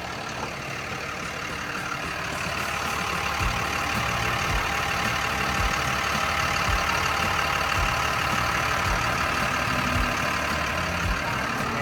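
A Caterpillar 3116T six-cylinder turbo diesel engine in a Caterpillar 938F wheel loader idling steadily with a low rumbling drone and mechanical clatter, continuous and fairly loud throughout, with no voices.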